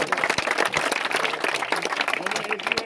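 Applause for the man of the match at a madrasa cricket event: scattered, uneven hand clapping close to the microphone, mixed with talking voices throughout.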